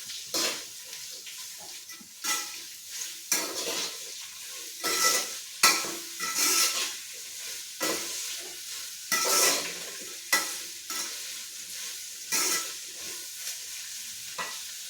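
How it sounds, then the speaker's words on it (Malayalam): Onions frying in a pan as a spatula stirs them, producing repeated scraping strokes at an uneven rhythm over a soft, continuous sizzle, close and fairly quiet with no voices. "നല്ല പോലെ ഒന്ന് ഇളക്കി കൊടുക്കും"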